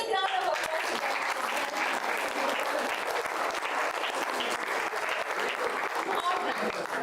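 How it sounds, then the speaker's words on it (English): Steady audience applause at a school career carnival, dense and sustained clapping from a large crowd of students welcoming mentors, filling the room evenly throughout. "A big round of applause to them."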